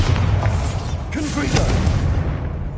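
A Bombarda spell blasts inside an abandoned mine tomb in Hogwarts Legacy, a deep rumbling boom with creaking debris under dense game sound and music, following a voice calling the spell.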